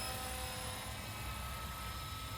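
A JCZK 300c Pro all-metal RC helicopter hovers in a steady, faint, droning whir of spinning rotor blades and a small motor, with no voices.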